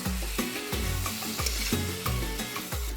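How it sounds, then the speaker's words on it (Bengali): Jujube plums tossed with turmeric in a pan for a sweet jaggery pickle: a bright continuous sizzle under regular thudding strokes of the spoon, roughly three per second, with no talking. "কুলগুলোর সাথে হলুদটাকে খুব ভালো করে নেড়ে চেড়ে মেশাবো।"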